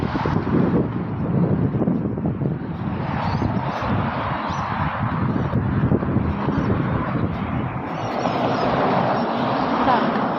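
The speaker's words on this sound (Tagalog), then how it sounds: "Hangin." Wind blowing outdoors, buffeting the microphone with a steady, rough rumble that swells and eases slightly throughout, loud and continuous with no clear talk.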